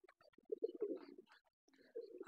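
Caged pigeons coo softly in two short, low, throaty bursts separated by a quiet pause, heard close but faint.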